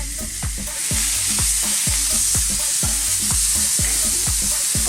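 Jamaican-style beef brisket steaks sizzle loudly on a barbecue grill, a dense continuous hiss broken by regular low thumps roughly twice a second, with no talking.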